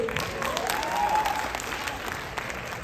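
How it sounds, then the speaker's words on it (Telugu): An audience at a Bharatanatyam dance performance claps in a sustained burst of dense applause, with a faint tonal sound in the background. "చప్పట్లు కొట్టండి"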